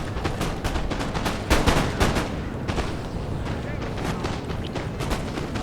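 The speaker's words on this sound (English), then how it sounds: "my poor calves getting shot up by these rifles" Rifle volleys crackle in the Napoleon: Total War video game, with dense, overlapping musket-like shots and heavier booms forming a continuous battle din.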